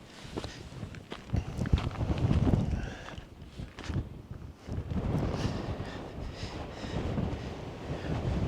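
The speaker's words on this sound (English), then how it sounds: "It's a bit windy though." Strong wind buffets and roars across the microphone in uneven gusts, with some rustling and crunching steps underneath.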